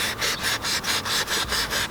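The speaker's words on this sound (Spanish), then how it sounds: "Pones, lijas, donde te haga falta pones más," Rhythmic sanding strokes rubbing back and forth over paint filler on a car body, close and steady, about eight passes with no talking.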